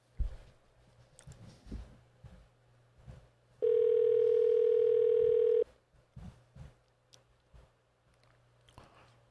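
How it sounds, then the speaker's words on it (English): A telephone call to Mollybrook Farm in New Hampshire goes unanswered: one loud, steady two-second ringback tone sounds over faint background clatter and rustling. "No one's answering this phone."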